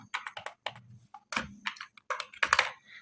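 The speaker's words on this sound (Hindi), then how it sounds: "मैं यहाँ पर shift alt down arrow press करूँगा" Keys are pressed on a computer keyboard while coding an HTML5 form, producing irregular bursts of close, crisp clicks and taps with short gaps and no speech.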